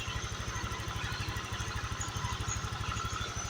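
Honda Vario 125 scooter engine with an aftermarket fuel injector runs steadily at idle, a loud, close, evenly pulsing throb with a slight clatter and no voices.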